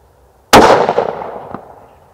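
A single sharp, loud report from a Mossberg MPV Light Chassis rifle fired at a target, with a long echoing decay fading over the next second and a half.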